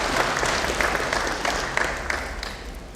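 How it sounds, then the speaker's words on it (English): An audience at a corporate annual general meeting applauds itself with a steady, moderately loud wash of clapping from a crowd in a hall, with no talk over it. "Let's clap for ourselves."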